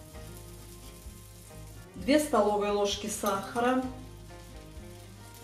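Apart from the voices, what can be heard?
apples frying in butter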